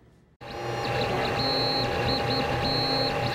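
A 3D printer in a classroom starts up after a brief near-silence. Its motors hum and whine steadily, with repeating tonal sweeps and stepping patterns close by.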